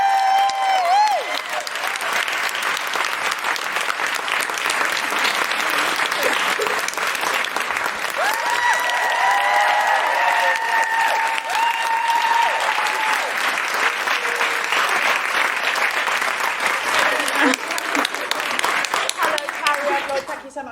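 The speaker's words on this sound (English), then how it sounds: "That's why I didn't want the applause to die" A live podcast audience fills a theatre with sustained, loud applause and cheering as a guest makes a slow walk to the stage, steady throughout with occasional voices rising in the crowd.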